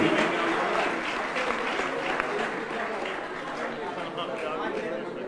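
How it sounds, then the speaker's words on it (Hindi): Dense, steady applause from an audience at a religious gathering with a Jain monk, sustained and fairly loud across the whole stretch with a murmur of crowd noise beneath. "बजाइए जोरदार तालियां।"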